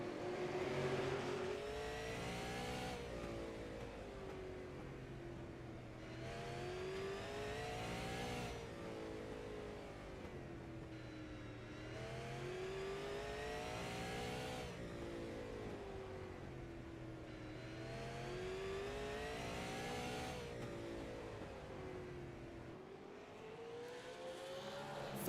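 Onboard race car engine in iRacing at Slinger Speedway, a loud steady roar that rises and falls in regular cycles of revving through the corners and accelerating down the straights, lap after lap, with no talk.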